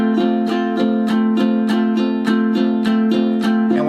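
A ukulele is strummed downward in an even scrub pattern with the back of a fingernail, about a dozen crisp, regularly spaced chord strums ringing close and clear without talk.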